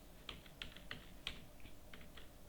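Keystrokes on a computer keyboard while stock item names are entered in Tally Prime accounting software, a handful of quiet, irregular taps spaced across a couple of seconds, close and faint with no talking.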